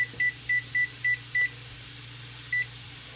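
A kitchen oven's control panel beeps as it is switched back on to 400 degrees: six short, evenly spaced electronic beeps in quick succession, then a single beep after a pause, over a faint low appliance hum.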